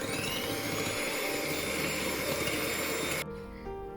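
Electric mixer beating cold double cream for mango mousse, a loud steady whirring drone running for about three seconds before cutting off abruptly, leaving a faint low rumble.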